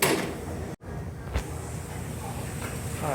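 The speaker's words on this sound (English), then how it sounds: "I'll close the door." A door pulled shut indoors gives one brief, fairly soft thud and click over steady background room noise, with no talking.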